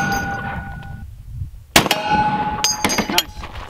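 A .50 BMG rifle shot striking a steel plate, one sharp loud crack followed by a ringing metallic clang and short echoing tail, with a second smaller impact just after.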